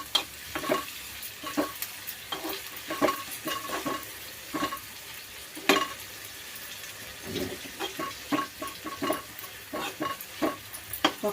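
Chopped onion frying with salt in a pan, a steady sizzle broken by repeated scraping stirs at an uneven rhythm, close and fairly loud with no talking.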